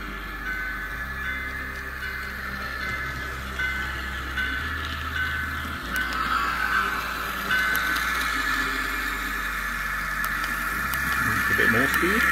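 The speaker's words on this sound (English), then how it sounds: "The engine sounds accelerate appropriately." A model US Army switcher locomotive on a DC and DCC remote-control layout gives a steady electronic diesel engine hum that slowly builds in pitch and loudness as it speeds up, with a faint voice talking over it.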